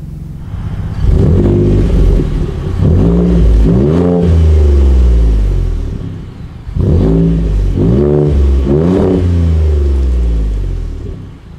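A Ford Shelby Baja Raptor's 3.5 liter EcoBoost engine revs twice, rising and falling in pitch with a deep, throaty rumble close by, then settles back to idle between bursts.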